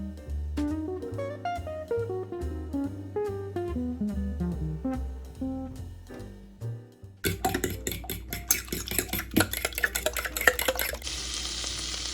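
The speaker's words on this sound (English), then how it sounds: "you can hear the sizzle of potatoes and the onion" Potatoes and onion fry in a pan with a steady, close broadband sizzle and crackle. It starts about halfway through, after a stretch of piano music, and the music may carry on faintly beneath it.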